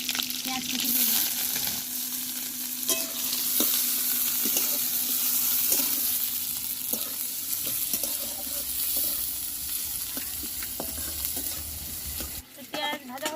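Chopped onions fry in oil in a wok seasoned with five-spice, green chilli and a bay leaf, a continuous close sizzle broken by repeated scrapes and clinks of stirring.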